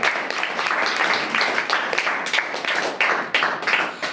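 A church congregation claps together in a Telugu-English worship service, a dense, steady wash of many hands with sharper bursts rising through the crowd, close and loud throughout.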